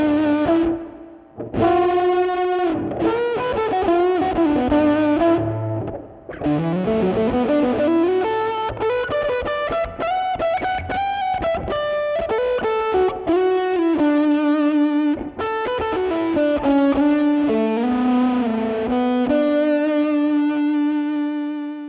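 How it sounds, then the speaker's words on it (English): Electric guitar played through a DIY RAT distortion pedal with a clean blend, the clean signal up front and distortion layered behind it, giving a doubled tone. Sustained chords and melodic runs ring out continuously at steady loudness, with brief gaps. "we can get this really nice layered tone where the clean signal is definitely more prominent, but the distortion is in the background"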